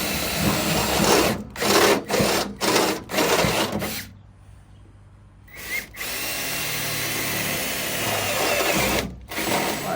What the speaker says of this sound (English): I'm just gonna be using a step bit